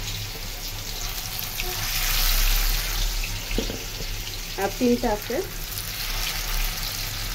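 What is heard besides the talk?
fish frying in hot oil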